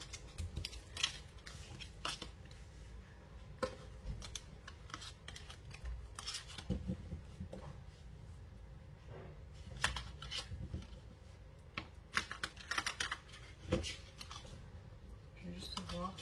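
Tarot cards being drawn and shuffled by hand, a steady run of soft papery riffles, slides and rubs close by with scattered sharper flicks, carrying on for the whole stretch without any talk.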